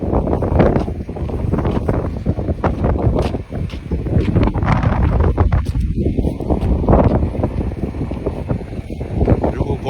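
A strong headwind roars continuously and loudly into the microphone along a road near spinning wind turbines, rumbling and gusting throughout the clip.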